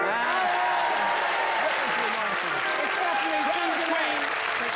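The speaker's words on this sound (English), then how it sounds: "applaud now" Studio audience applauding on a live British comedy morning-show parody, a steady dense wash of clapping lasting the whole stretch with voices and cheers rising over it.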